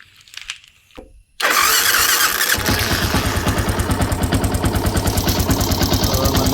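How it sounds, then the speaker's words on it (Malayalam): Yamaha FZ V2 motorcycle engine starting after a throttle body cleaning: a brief starter whir, then the engine catches and settles into a loud, close, steady idle with a rapid thumping pulse. "അപ്പോൾ അതിനുശേഷം നമുക്ക് ജസ്റ്റ് ഒന്ന് സ്റ്റാർട്ട് ചെയ്ത് നോക്കാം"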